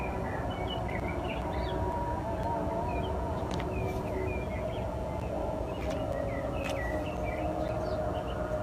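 Birds chirp and call in scattered short bursts outdoors, heard over a steady, dense background hum of insects or distant ambience, with no talking.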